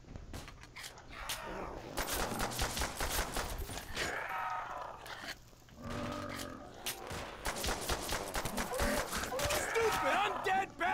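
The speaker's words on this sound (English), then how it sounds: "the zombie's shooting me, I've gone down!" A zombie shooting a gun in a Call of Duty custom zombies game: loud bursts of rapid gunfire and fusillades, mixed with grunts and someone talking excitedly over the action.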